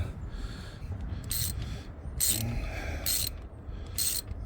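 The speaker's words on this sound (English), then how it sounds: "we're going to torque this down to 15 foot-pounds of torque" A ratchet tightens a bolt during a cooling fan repair on a Chevrolet Silverado or GMC Sierra truck, giving four short bursts of clicking at a steady pace over a low background hum.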